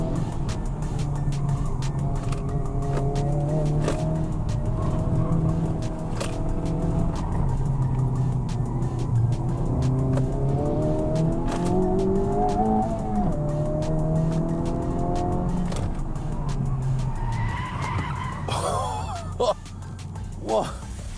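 A hot hatch launched at full throttle from second gear across a racetrack start-finish line, its engine roaring and rising in pitch for a long stretch, with tires squealing and a voice talking over it.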